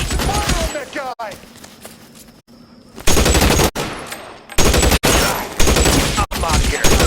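Bursts of rapid automatic gunfire in the L.A. Noire shooter game, loud and dense, broken by brief pauses and mixed with a man's excited speech over the gameplay.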